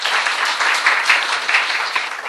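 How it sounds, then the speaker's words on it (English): A conference audience gives a close, lively round of applause, with individual claps audible within a dense, steady burst. "So can I have a round of applause for them, please?"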